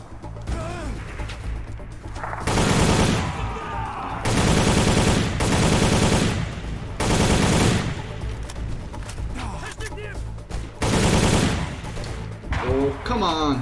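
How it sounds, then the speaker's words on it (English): Loud bursts of gunfire in the shooter game Soldier of Fortune: Payback erupt roughly four times, each volley lasting a second or so, with quieter gaps between them and brief speech in the lulls. "somebody is firing at me from somewhere."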